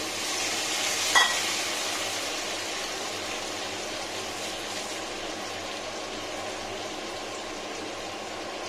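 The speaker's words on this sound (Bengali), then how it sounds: "এগুলো আলু ভাজাগুলো।" Potatoes fry in oil with a soft, even hiss and a brief clink near the start, steady and fairly faint throughout.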